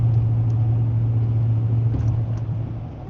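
A truck passing near a lake with something dragging behind it, giving a loud steady low rumble with faint scraping clinks that slowly fades.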